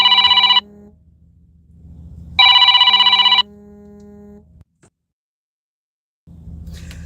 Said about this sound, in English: I go to answer the phone and they hang up.